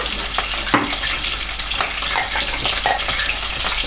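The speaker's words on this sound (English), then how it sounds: "chorizo into the pan" Chorizo sizzling steadily in a hot pan, a continuous crackling fry with a few brief clinks and stirring scrapes, fairly loud and close with no talking.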